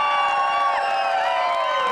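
Crowd at a party in Maine cheering for a two-person sawing team, a loud continuous burst of shouts, whoops and high-pitched yells filling the whole moment.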